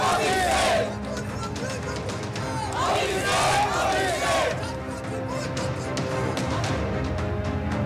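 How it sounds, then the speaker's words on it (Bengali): Trinamool Congress supporters chant the slogan 'Adhinayak Abhishek' loudly as a crowd, in repeated rhythmic waves of voices over steady background noise. "পোস্টারের পর উঠল এবার অধিনায়ক অভিষেক স্লোগান।"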